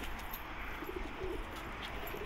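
Pigeon cooing softly while being held in the hand, low murmuring coos over a faint background hiss, close but quiet.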